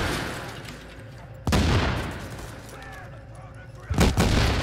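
Enemy gunfire in the video game The Division, with two loud bursts of shots about a few seconds apart against a busy background of game noise and voices talking.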